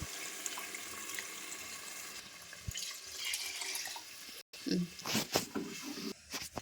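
Water pours into a pot of mutton curry gravy with a rushing, splashing gurgle, heard close and underneath a speaking voice.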